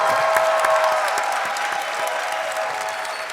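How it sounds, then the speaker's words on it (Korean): A conference audience at a Build Up Korea 2023 session claps to welcome a speaker to the stage, sustained and fairly loud applause that gradually eases off, with no speech over it. "박수로 환영하겠습니다."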